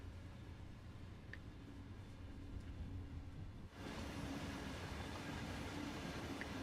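Intercity Express train running in the Train Sim World 2 game, a low steady rumble and rolling hiss that swells louder partway through, with faint clicks, no talk.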